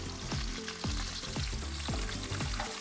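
Bacon-wrapped wahoo medallions fry in a pan with a loud, steady sizzle. Recurring soft knocks and scrapes come through the crackle, and no one speaks.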